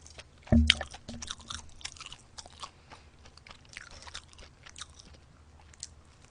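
Close-up chewing of a McDonald's 1955 burger: one loud crunchy bite near the start, then soft, wet, irregular mastication sounds continuing quietly without speech.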